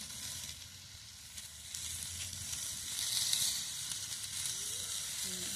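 Turmeric and spices sizzle steadily in a hot pan for a Bengal-style fish curry with taro, cauliflower and potato, a continuous close frying hiss that swells slightly midway, with no talk.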